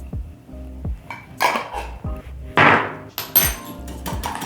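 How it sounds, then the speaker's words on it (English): Eggs whisked in a bowl with added salt make a run of quick, clattering metal-on-bowl taps and scrapes in irregular bursts, close up and fairly loud with no talking. "Whisk again."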